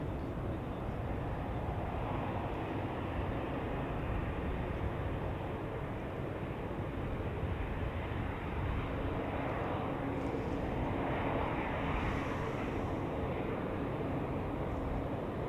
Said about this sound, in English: here we have an Air Baltic A320 taxiing now to the runway from a remote stand